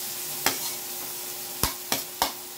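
Onions and garlic sauté in margarine under a soft, low sizzle, broken by four sharp clinks of a spatula striking the pan, with no speech.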